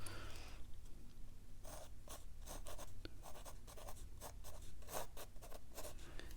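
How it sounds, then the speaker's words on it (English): A mechanical pencil scratches across paper during a watercolour product review, making quiet, close, irregular strokes with short rubbing bursts and brief pauses between marks. "Just a mechanical pencil."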